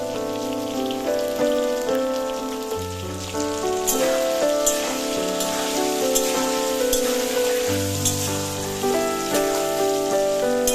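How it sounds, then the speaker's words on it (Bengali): Small potatoes crackle and sizzle steadily in hot oil over a high gas flame, a busy pattering hiss heard beneath melodic background music. "গ্যাসের ফ্লেম হাইতে রেখে আমরা আলুগুলো ভেজে নেব"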